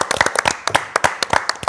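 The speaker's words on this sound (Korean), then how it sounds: "박수하시겠습니다." An audience applauding at a Korean Christian talk show recording, a short burst of crisp, fairly loud hand claps in quick irregular rhythm with no voices.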